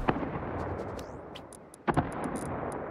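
Explosions and gunfire in the survival video game Rust on a 100x server: a dense, continuous crackle of distant blasts with a sharper, louder double burst near the end, no talk.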